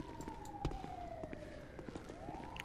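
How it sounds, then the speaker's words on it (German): A video game ambulance siren in GTA V wails, sweeping up and down in pitch at a moderate distance, with scattered clicks and clatter around it. "Krankenwagen ist vorne."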